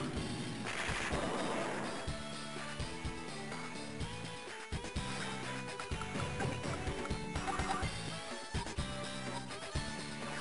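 Tank fire on artillery in the video game Advance Wars 2: a dense run of sharp gunfire and explosive bursts layered over game music, loud and near, with no talking.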